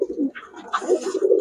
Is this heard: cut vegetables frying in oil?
no